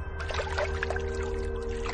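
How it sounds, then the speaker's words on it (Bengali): Water poured over a feverish man's head as he lies in bed, a soft, continuous splashing trickle with faint gurgles in a horror audio drama scene. "জল ঢালতে শুরু করলাম"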